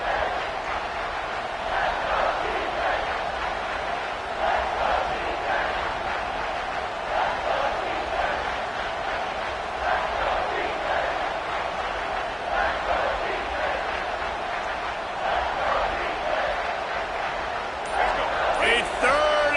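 Stadium crowd noise from a college football video game roars as a steady, dense wash on a third-and-goal play near the end zone, with a commentator talking over it throughout.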